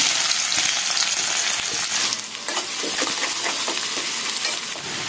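Chopped onions fry in hot oil with bay leaf and cumin for an egg curry with radish, potato and aubergine, a loud, continuous close sizzle broken by stirring scrapes and clinks, with no talking.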